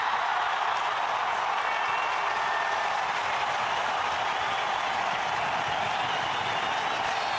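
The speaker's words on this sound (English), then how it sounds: "Well, that's got the crowd involved." A cricket crowd at an India versus Australia match roars and applauds Sachin Tendulkar's six, a dense, steady wash of clapping and cheering that holds evenly throughout with no break.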